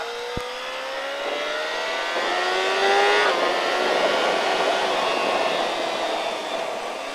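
A motorcycle engine revs and climbs in pitch on a race circuit, its whine rising steadily and holding loud and close for several seconds.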